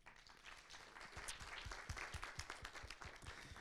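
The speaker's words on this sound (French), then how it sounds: "On peut les applaudir et les encourager." An audience at a regional final of a three-minute thesis competition applauds the jury, with scattered distinct claps building into a steady, moderately faint round of applause that carries on to the end.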